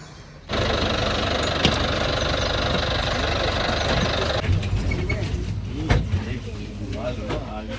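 A safari vehicle's engine idles steadily and close by in a forest reserve setting at Bandipur, a continuous mechanical rumble with a few knocks, while people talk over it.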